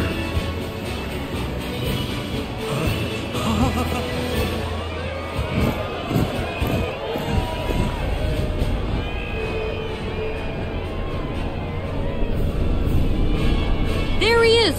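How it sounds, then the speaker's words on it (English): In the video game Final Fantasy VII Rebirth, a large crowd at a military parade in Junon cheers and shouts continuously in the distance while a voice talks over the noise. "Can you even hear me over this crowd?"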